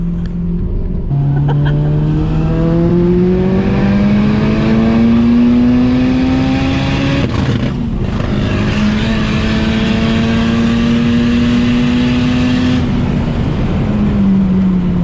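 A Mitsubishi Lancer GSR's turbocharged engine idles and revs loudly nearby, its pitch rising and holding, with a brief fluttering turbo whoosh midway as the throttle lifts.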